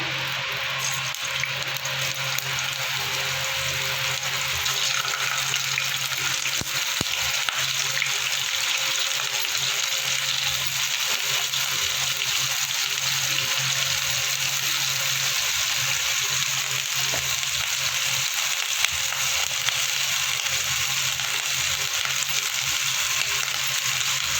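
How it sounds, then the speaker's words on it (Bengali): Cauliflower florets fry in hot oil in a home kitchen, giving a steady, even sizzle and crackle that holds at the same level throughout, with no talking. "তেলটা আমি গরম করতে বসিয়ে দিয়েছি ফুলকপিগুলো আমি ভেজে নেব"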